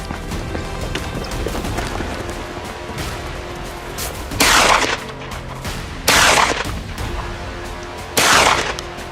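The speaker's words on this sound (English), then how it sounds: "A few final, precise shots marked the end of our long pursuit." Three loud, sharp gunshots ring out at even intervals of about two seconds near the end of a wild boar hunt in Texas or Muğla, sounding close over steady outdoor background noise.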